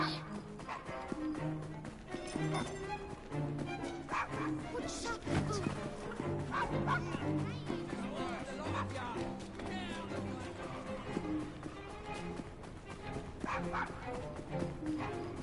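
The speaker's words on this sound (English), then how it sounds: "Follow Desmond's barks." A dog barks and yips repeatedly in Assassin's Creed Syndicate on PS4, busy game audio and music around it, with a player's voice talking intermittently.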